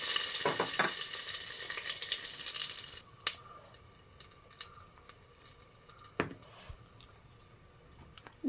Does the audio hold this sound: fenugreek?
yes